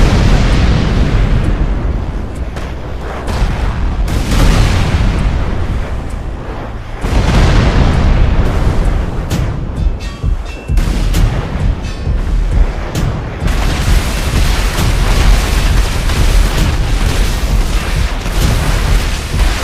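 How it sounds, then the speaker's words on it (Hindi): Loud, continuous booming blasts and rumbling bursts of video game explosions roll on one after another, dense and layered, with sharp crackling hits throughout and no pauses. "चलो कुछ धमाका करते हैं"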